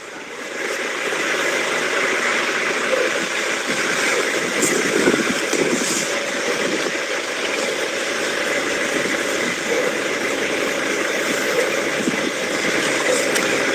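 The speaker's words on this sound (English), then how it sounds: "You must not leave a parked vehicle unattended with the engine running." A steady engine idles nearby with a constant low rumble and hum, unchanging throughout, with no voices.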